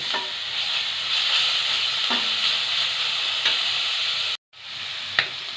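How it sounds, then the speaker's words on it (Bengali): Onion and garlic frying in a pan for a Bengali aar fish curry, a steady close sizzle with occasional soft scrapes of stirring and a brief cut near the end. "পেঁয়াজ রসুন ভালোভাবে নেড়ে চেড়ে কাঁচা গন্ধ চলে গেলে আদা আর জিরে বাটা দেব।"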